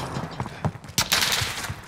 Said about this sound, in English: I want the airstrike here.